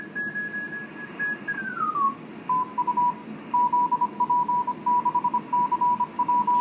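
An amateur radio station received on the 21 MHz band comes through a receiver as a steady whistling tone that slides down in pitch. It then sounds as a keyed on-off Morse-like pattern over a bed of hiss.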